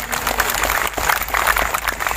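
An audience at an Islamic religious gathering breaks into applause, a continuous rustling patter of many hands clapping at moderate distance, fairly even in loudness throughout.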